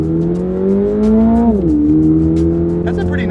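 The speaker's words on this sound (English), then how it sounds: "That's just the boxer engine too." Engine of a 2022 Toyota GR86 with its stock boxer four and no aftermarket exhaust, droning steadily as it accelerates, the pitch rising, dipping at a shift, then climbing again from inside the cabin.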